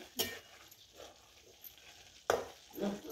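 Chickpeas (chana) roasting in a pan and turned with a spoon, two sharp scraping strokes with soft rustling between them, faint and close in a quiet room.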